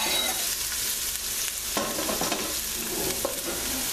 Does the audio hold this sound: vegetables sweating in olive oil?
yes